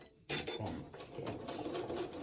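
A sewing machine back stitching while making braided twist placemats, a steady close mechanical whir starting abruptly after a short quiet pause and running evenly to the end.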